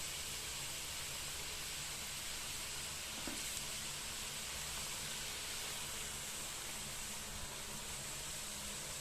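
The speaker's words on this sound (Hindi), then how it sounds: "हम अपनी सारी की सारी गुजिया इसके अंदर डाल के सेक लेंगे और गैस की फ्लेम को कर देंगे बिल्कुल मीडियम" Gujiya sizzling in hot oil in a pan over a medium gas flame, a steady, even hiss of frying that holds throughout, close and alone with no voices.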